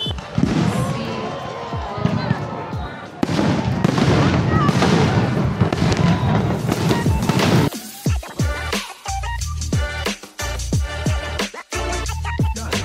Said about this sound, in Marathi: तिकडे जी होणारी फटाक्यांची आतिषबाजी भाई, ती बघण्याचं सुख, समाधान, शांती वेगळी आहे